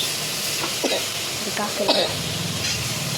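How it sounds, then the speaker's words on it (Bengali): Crab pieces coated in salt, turmeric, ground cumin, garlic paste and coriander powder fry with onion in a pan, giving a loud, continuous close-up sizzle and hiss broken by a few soft stirring clicks. "ক্যাঁকড়া আমি দিয়েছি নুন ও হলদি, জিরে বাটা, রসুন বাটা, ধনির গুঁড়ো এরকম ভাজা করছে।"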